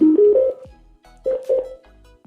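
A Piranha 7826 Bluetooth speaker powers on with a clean electronic chime: three rising tones in quick succession, then after a short pause two more sustained tones, loud and close.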